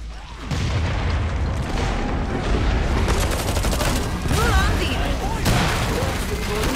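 Dense, chaotic gunfire and booming blasts from Killing Floor 2 fill the scene continuously, loud and close, with overlapping shots and impacts and voices mixed in underneath.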